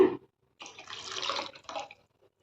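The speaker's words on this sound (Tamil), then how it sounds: "கரெக்டாக அளவாக ஊற்றிக்கோங்க நான் ஊற்றிக்கிறேங்க" Ground toor dal water poured into simmering kuzhambu in a home kitchen, a single steady liquid pour of about a second, close and moderately loud, with a short splash just before and no talk.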